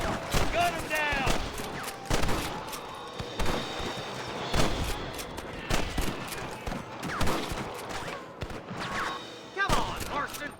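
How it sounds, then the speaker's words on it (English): Repeated gunshots rattle through a Red Dead Redemption firefight with rustlers, sharp loud bursts arriving irregularly across the whole stretch, some clustered into quick volleys, with game voices shouting between them. "Look out! Rustler guard! Gun him down!"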